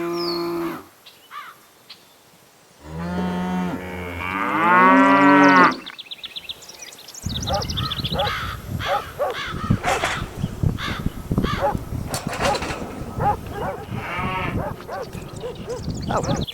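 Cows lowing on a dairy farm, a couple of loud, drawn-out moos up close, followed by a busy, clattering mix of farmyard noises with possible crow caws.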